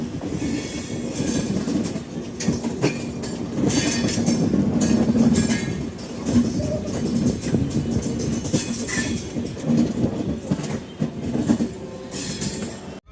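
Sadbhavana Express 14007 rolls into Ghaziabad station while merging onto the Delhi main line, with steady loud wheel rumble and clickety-clack over rail joints plus faint metallic clinks, continuous throughout.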